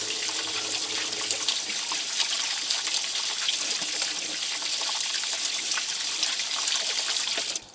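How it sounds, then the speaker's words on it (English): Running water splashes and trickles steadily into a pot of rice being rinsed for boiling, a bright continuous wash close by that cuts off abruptly at the end. "get a spoon, give it a good stir, keep getting a really good rinsing"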